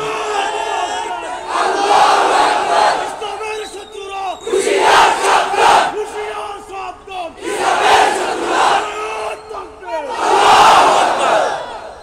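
Crowd at a Bangla waz religious gathering shouting takbir in unison, four loud, long swelling chants that rise and fall in a regular call-and-response rhythm, with a lone voice leading between them.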